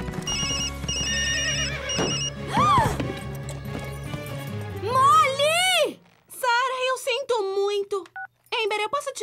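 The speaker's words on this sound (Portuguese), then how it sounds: "Eu programei outro toque pra Amber ontem à noite" A loud, melodic mobile phone ringtone rings in an animated children's horse show, its repeating electronic tones layered with music and busy cartoon sound before cutting out and returning.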